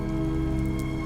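Heavy rain pours down steadily in a dense, continuous wash with no break, loud and close, with no voices.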